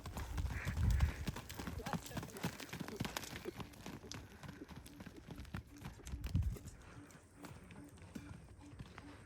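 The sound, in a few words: mare running, hooves clip-clopping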